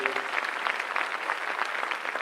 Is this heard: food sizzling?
no